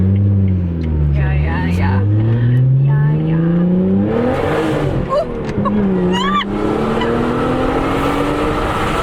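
A 350 hp Lotus Evora S in sport mode at full throttle, its engine note climbing loudly through the revs with a gear change partway, heard from inside the car while people talk over it.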